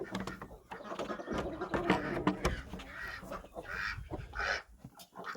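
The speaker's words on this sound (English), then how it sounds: "Quack, quack, quack." Ducks and other farm fowl quack and honk close by in a busy barnyard, while a person talks over them.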